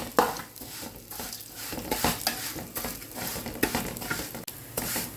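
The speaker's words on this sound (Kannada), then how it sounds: "ಸೇವಿಗೆಯನ್ನು ಚೆನ್ನಾಗಿ ಫ್ರೈ ಮಾಡಿ ಬೇಯಿಸ್ಲಿಕ್ಕೆ ಉಂಟು" Vermicelli fried in oil in a pan while making masala shevige, with soft sizzling and repeated scraping and stirring of a utensil against the pan in irregular bursts, close and fairly quiet, with no talking.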